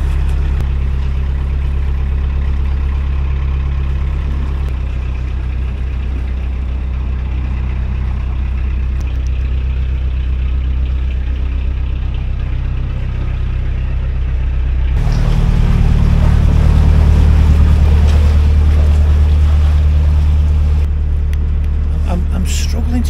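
A canal narrowboat's engine chugs with a steady, heavy low throb, then the revs change and the note swells louder and rougher for a stretch before settling again.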